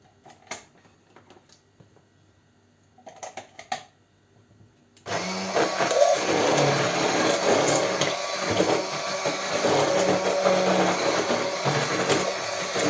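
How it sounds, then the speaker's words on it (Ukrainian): A blender whirs loudly and steadily for several seconds after a few quiet clicks and handling noises, running close by without pause, blending cooled rice porridge for a cheese-rice pudding. "І збиваємо далі блендером."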